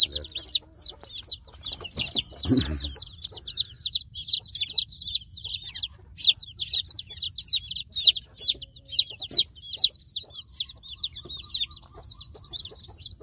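Many native chicken chicks peep constantly in high, rapid chirps, close and busy, with a brief low thump partway through.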